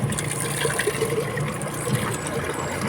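Drinking water being collected at a roadside water source in the Cebu City hills in early morning, a steady close trickle and splash of flowing water running throughout without a break.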